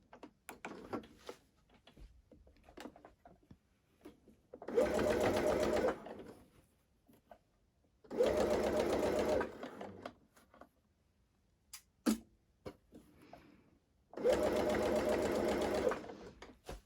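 A sewing machine stitches around a garment hem, three steady bursts of roughly a second and a half each with quiet handling noises and faint clicks in the gaps.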